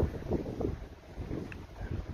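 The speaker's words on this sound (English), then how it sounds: "As you can probably hear, the wind's picked right back up again this morning." Gusty wind blowing across a lake in January, buffeting the microphone with low, uneven rumbling surges over a steady background hiss, no voices present.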